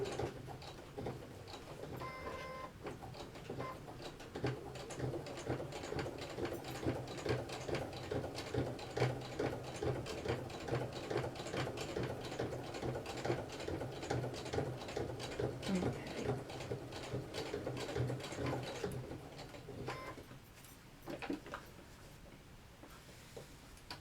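Home sewing machine running a long steady top-stitch pass along the edge of a fabric Kindle case, a fast even mechanical ticking rattle that holds for about twenty seconds before trailing off, with no talking.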